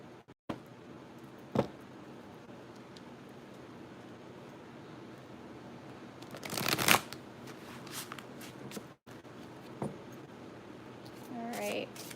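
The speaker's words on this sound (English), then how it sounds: "takes me a whole 5 minutes just to shuffle the damn card" Tall tarot cards being shuffled by hand indoors, with a quiet steady hiss broken by a few soft taps and one longer riffling burst near the middle.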